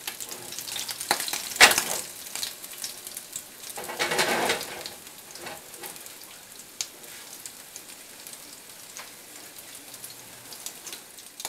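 Tuna potato cakes fry in a pan with a steady low sizzle, punctuated by a couple of louder crackling bursts early on before settling into a quieter, even hiss.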